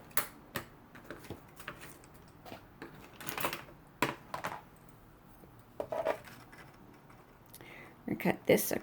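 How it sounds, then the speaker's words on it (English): Small scissors cut paper while making a hot chocolate pouch craft, giving faint, close, irregular snips and light clicks spread across quiet room tone. "I'm going to use my little scissors."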